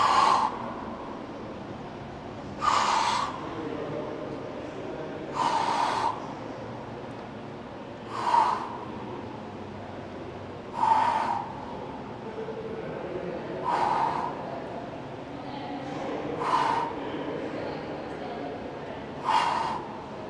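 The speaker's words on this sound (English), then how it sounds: "really coinciding that breathing with every lift of my knees" Sharp, forceful exhalations during hanging knee crunches, about eight evenly spaced bursts of breath roughly every two to three seconds, close and loud over a quiet room background.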